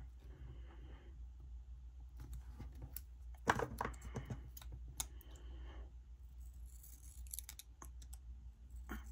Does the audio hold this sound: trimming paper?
yes